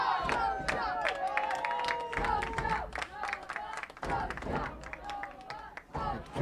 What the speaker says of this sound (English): Competing cheering on either side of us.